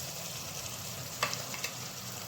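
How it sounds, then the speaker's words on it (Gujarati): Tomato paste going into frying onion paste in a pan, a soft steady sizzle with a couple of sharp clicks from stirring, quiet and close. "હવે તેમાં આપણે ટામેટાની પેસ્ટ નાખીશું"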